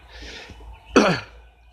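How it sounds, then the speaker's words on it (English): A single harsh throat clearing, loud and close, after a moment of faint background hiss. "Sorry guys, I had to clear my throat."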